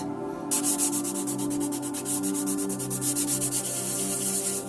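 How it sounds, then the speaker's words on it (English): A part for an infinity mirror is sanded flat by hand, a close, steady back-and-forth rasping in even rhythmic strokes that starts after a short pause and continues throughout. "now I'm just gonna sand this down a bit so that it's for sure flat"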